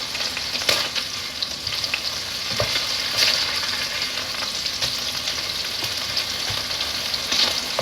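Beef patties sizzle and crackle steadily in a frying pan, with occasional scrapes and clatter from stirring or turning, close and continuous with no talking.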